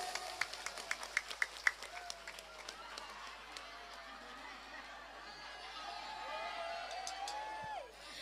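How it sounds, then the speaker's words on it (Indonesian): An audience at an Islamic religious gathering with a pesantren preacher applauds, with scattered claps and a soft crowd murmur heard at a distance and fairly faint. "Tepuk tangan disek"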